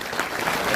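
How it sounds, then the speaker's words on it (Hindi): Applause at a welfare association's birth anniversary celebration for Dr. B.R. Ambedkar, a brief burst of steady dense clapping from an audience hall, fairly close. "नहीं तो जोरदार तालियां"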